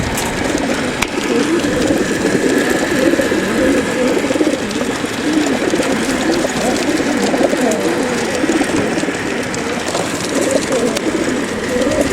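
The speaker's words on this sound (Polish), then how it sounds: "będziecie patrzeć jak się karmi gołębie" Racing pigeons coo steadily in a loft during feeding at a Polish pigeon race event, their dense, overlapping throaty calls filling the whole stretch alongside faint mechanical clicks.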